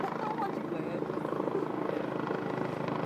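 A helicopter descending to land in the outfield of a college baseball field, its steady rotor and engine drone continuous and moderately distant, with crowd voices mixed in.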